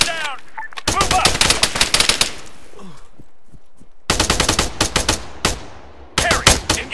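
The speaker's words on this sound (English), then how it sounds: "Harry, engage that machine gunner!" Loud, close machine gun fire from the Arma 3 Apex video game comes in three long rapid bursts, with quiet gaps and a few scattered single shots between them.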